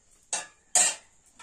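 A metal lid goes onto a pot of simmering curry in two quick strikes, a short clank followed by a louder, slightly ringing clatter, close and alone with no talk.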